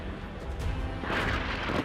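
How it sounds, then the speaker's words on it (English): A breach charge explodes and blows a hole through a compound's perimeter wall, a heavy low boom followed by a rumbling burst and crackling debris. "A breach charge blew a gaping hole in the compound's perimeter wall"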